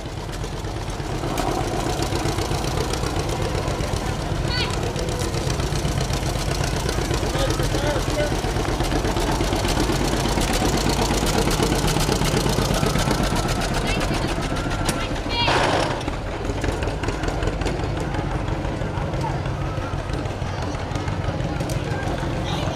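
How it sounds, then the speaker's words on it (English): An old tractor engine runs steadily in a small-town Old Settlers Day parade, a constant loud mechanical rumble with a brief rattling burst partway through, heard beneath an announcer's ongoing talk. "Grandpa's old tractor."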